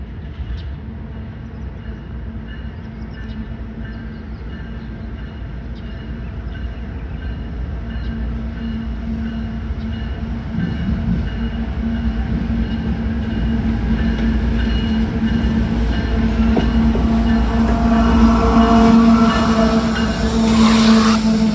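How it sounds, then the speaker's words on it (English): A long freight grain train approaches and passes, its heavy rumble and wheel noise growing steadily louder, with a faint squeal and rhythmic clatter near the end. "We see a southbound grain train come through."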